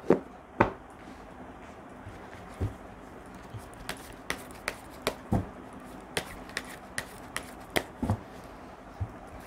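Oracle cards being shuffled by hand, a series of sharp, close flicks and taps at irregular intervals over a quiet background.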